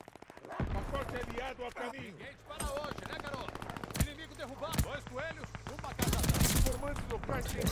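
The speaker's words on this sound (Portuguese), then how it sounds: "Não, não, não, não. Tomando tiro da costa." Rapid automatic gunfire in a multiplayer shooter video game crackles in dense, repeated bursts with sharper single shots, loud and continuous, while someone talks excitedly over it.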